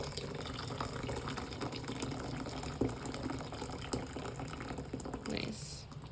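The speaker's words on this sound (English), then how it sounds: "So we're going to add this freshly boiled water." Freshly boiled water is poured into a bowl for a respiratory steam with pine and mullein, a steady close splashing trickle that runs for several seconds while a person talks quietly over it.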